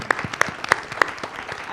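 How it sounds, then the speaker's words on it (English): Applause at a panel and party celebrating sixty years of bylines, honoring an editor for a dozen years of service: a moderate, scattered patter of clapping with several sharper bright accents spaced through it, and a voice faintly mixed in. "we want to have another round of applause for you, Gail"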